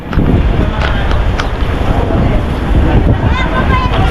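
Typhoon Paolo's strong wind roars along the coast at Dinahican, Infanta, Quezon, a loud, churning, gusty rush with surf-like wash underneath that never lets up.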